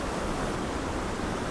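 Waterfall at Warnscale in the Lake District fells, heard as a steady, dense rush of falling water that holds an even level throughout, with no voices or other sounds.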